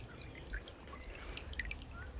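Brook water spills over the remains of an old weir, a soft continuous trickle with scattered drips and splashes close by, with no talking over it.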